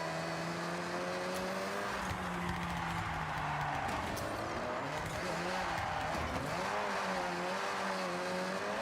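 A front-wheel-drive car races in Forza Horizon 6, its engine revving and droning with pitch rising and falling through gear changes and turns, a steady continuous roar.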